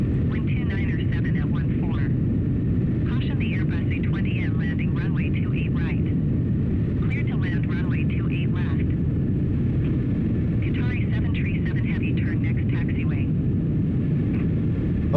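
Simulated B-2 Spirit stealth bomber on final approach to touchdown, with a loud, steady engine and airflow roar throughout, while radio-style voices talk over it in several bursts.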